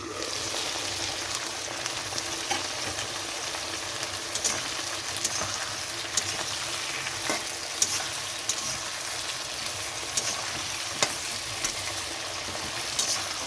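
Tilapia curry ingredients fry in a pan with a steady, dense sizzle and occasional crackling pops throughout, close and continuous.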